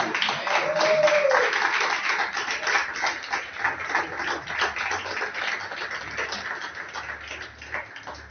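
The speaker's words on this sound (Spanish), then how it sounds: "Den un aplauso." A church congregation claps during a sermon on the rapture, with a fairly rhythmic, ticking patter of hands that softens toward the end, as a voice speaks at moments.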